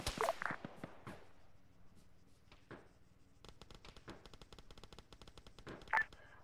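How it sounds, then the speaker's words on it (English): Video game gunfire: a loud burst of rapid shots opens the clip, followed by scattered single cracks and a sustained rattle of automatic fire, then a sharp, loud shot near the end. "Shots fired, getting closer."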